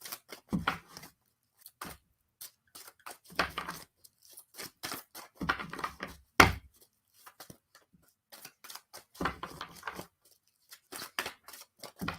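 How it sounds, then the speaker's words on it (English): Bursts of crisp riffling and papery snapping from cards being shuffled, coming in irregular clusters with short quiet gaps between, close and fairly soft. "I'm going to shuffle. I don't know if it's in this deck or not."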